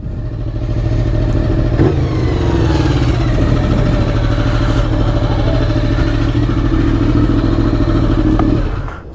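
An A2-legal motorcycle engine idles loudly and close at a Romanian motorcycle festival, a steady deep rumbling thrum with a slight rise in revs partway through before it settles, continuous with no clear talk over it.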